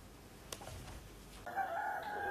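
A rooster crows at a broiler chicken farm of more than 1,000 square metres, the drawn-out call rising in the second half over faint background noise, with a brief knock heard earlier.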